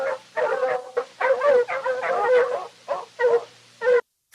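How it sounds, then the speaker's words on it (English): A fox gives a run of sharp barks and high yips in quick clustered bursts, close and fairly loud, with brief pauses between calls and no talking. "Fox."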